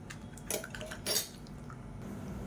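A metal spoon scrapes and clinks against a cooking pot while turmeric is stirred into a thick lentil and buttermilk curry, two sharper knocks standing out over quiet, continuous stirring close by.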